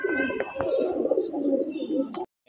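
Budapest pigeons coo in a continuous soft, throaty murmur, with several birds overlapping close by and a few sharper calls breaking through before a sudden stop.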